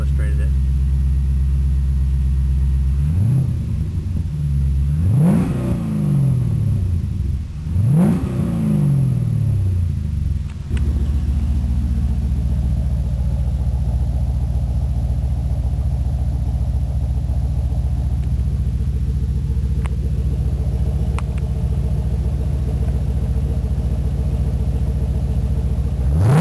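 A 1994 Mazda RX-7 rotary engine running, loud and close, with a few quick revs rising and falling early on before settling into a steady, low idle drone.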